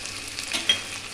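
Two large tomatoes hit a pan of frying ground ginger, garlic, green cardamom and cinnamon paste, giving a close, soft sizzle with stirring scrapes and one brief sharper clink, no voices.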